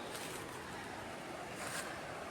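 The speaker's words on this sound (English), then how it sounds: "I'm right here by the river." The Toccoa River flows near its bridge on the Benton MacKaye Trail, a steady, faint rushing wash of water that holds level without a break.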